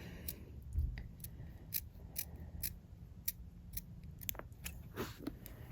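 Small scissors snip beading thread while trimming beaded earrings, a series of sharp, close, quiet clicks spaced irregularly over a near-silent background, with no voices.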